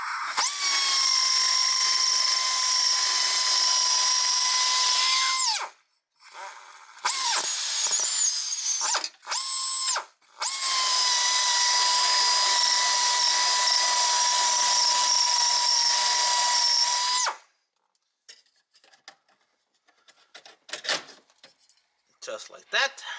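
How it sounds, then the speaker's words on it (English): A right-angle drill with a 5/16 bit drills out rivets in a 1997-2004 C5 Corvette during a double-DIN radio install: a long loud whine, a few short bursts, another long run, then faint clicks and handling noises. "use a 5/16 drill bit to drill out the rivets using a right angle drill"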